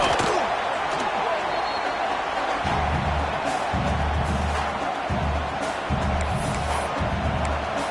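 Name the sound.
stadium crowd cheering in a football video game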